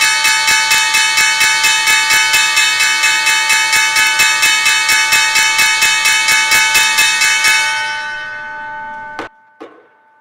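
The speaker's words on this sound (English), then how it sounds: "And there is the closing bell." A stock market closing bell rings in a rapid, loud, evenly spaced series of metallic strikes for about eight seconds, then stops abruptly, followed by a couple of faint clanks.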